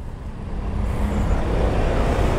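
Road traffic in Pasig is heard from a moving motorcycle as a dense, steady low rumble of engines and tyres that swells slightly toward the end, with no talk.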